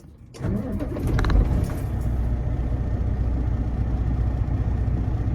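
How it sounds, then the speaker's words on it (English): A truck engine cranks and catches, then settles into a steady, close idle rumble that keeps going to the end with no talking. "Let me see if I can turn my truck on and it'll make it stop."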